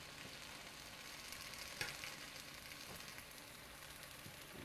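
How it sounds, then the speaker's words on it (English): Salmon fillet basted in a hot pan, a steady close sizzle and frying crackle with a soft spoon clink partway, no voices. "You can just continue to baste your salmon until it becomes nice and tender."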